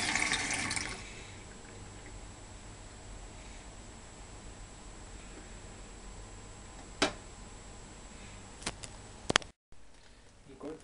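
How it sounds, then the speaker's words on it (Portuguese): Hot water from a coffee maker trickling down in a steady, soft hiss, faint and continuous, broken by a few brief clicks and knocks near the end and a louder rustle at the start. "Enquanto a água está caindo ali"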